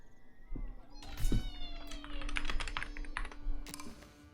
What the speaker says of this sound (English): Okay, just stay there, cat.